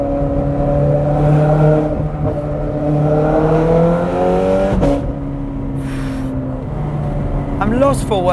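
A Ferrari 430 Scuderia's 550-horsepower engine pulls up through the revs with a rising, steady drone, then drops back and surges again toward the end.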